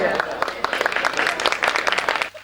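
An audience claps in a dense, ragged burst at a poetry recital, many hands striking close together throughout before it cuts off abruptly.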